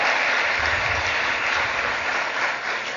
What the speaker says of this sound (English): I want to give the government and Minister Cummings a round of applause for that here today